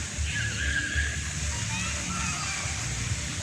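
An outdoor fountain splashes and sloshes in a continuous wash of water at moderate distance, with people and children talking over it.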